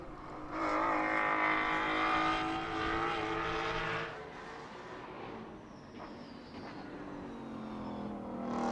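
GT4 race cars, including a McLaren, a Porsche and a Mustang, accelerate hard through a sprint race at Circuit of the Americas in 2020, with loud engine roar building and fading as the cars pass, no voices.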